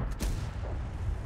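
A heavy tank's cannon fires once in World of Tanks, a single sharp boom followed by a low rumbling tail under steady game background noise.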